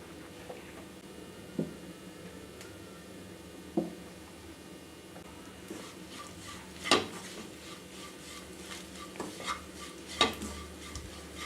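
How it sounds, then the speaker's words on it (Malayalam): Beef roast with spices is stirred in a pan, with a quiet sizzle underneath and irregular metallic scrapes and clinks from the spoon that grow busier toward the end. "ഇതെല്ലാം ഇട്ടിട്ട് നന്നായി ഒന്ന് ഇളക്കിയെടുക്കണം."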